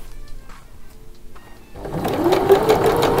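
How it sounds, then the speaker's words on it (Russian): After a quiet stretch, a domestic sewing machine starts up and runs a fast, steady stitch, sewing elastic binding onto the raw edges of women's underwear, loud and close. "Прокладываем строчку."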